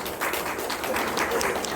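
Audience applause fills a talk concert at Geumsaem Library in Geumjeong-gu, Busan: a steady, dense wash of many hands clapping together, close and sustained for the whole moment with no voice on top.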